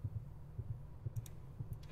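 A slow, muffled heartbeat pulses in a video game, soft paired thumps repeating steadily at a relaxed pace, with faint hum and a few light clicks in the background and no voices.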